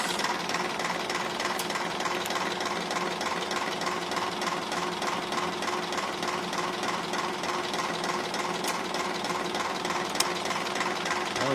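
A 1968 G900 tractor's diesel engine runs at low idle, a steady, even rumbling chug that holds constant and close with no talking.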